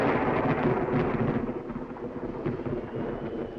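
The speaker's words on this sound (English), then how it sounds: "Away from the thunder." Deep thunder rolling in a long, steady rumble, loud and continuous with a slight swell and fade, mixed with a hiss of rain throughout.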